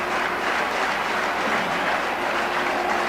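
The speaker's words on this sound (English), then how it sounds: "There's the applause from this very large crowd at the National Stadium" A very large crowd applauding in the National Stadium in Karachi at a cricket match, a dense, steady, continuous wash of clapping from far across the stands.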